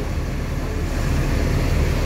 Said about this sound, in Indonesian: Nah, ini mobil udah dihidupkan.